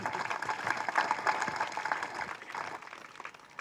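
An audience at a DMK political meeting claps. The applause is a dense, steady patter of many hands at moderate distance, fading slightly toward the end, with no speech over it.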